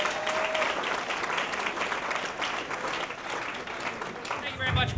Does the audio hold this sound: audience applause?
yes